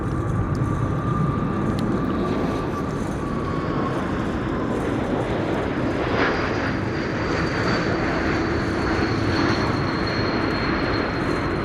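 A Bulgarian airliner arriving from Sofia passes at Amsterdam Schiphol on a windy day, its steady loud engine roar filling the scene throughout with a faint whining tone rising in the middle, no voices.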